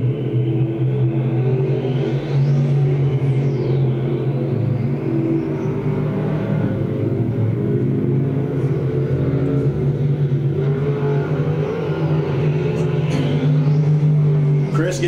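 Race cars in a 2014 heat race on track roar together in a loud, continuous engine drone that swells slightly as they push through the laps.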